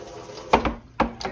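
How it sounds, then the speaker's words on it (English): Water is poured into a pot of hamburger and ground beef soup, heard as a couple of short splashing bursts close by with quiet pauses between them. "Add me some more water."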